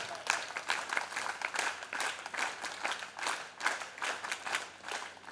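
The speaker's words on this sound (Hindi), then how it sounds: "वीर ताली।" Audience applause at a gurukul gathering rings out steadily and moderately loud, a dense patter of many hands clapping without a break.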